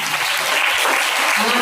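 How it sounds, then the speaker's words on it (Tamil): Church congregation clapping hands in thanks, a dense, loud burst of applause filling the whole short moment without pause. "விசுவாசிக்கிறவங்க கைத்தட்டி நன்றி சொல்லுவாங்க."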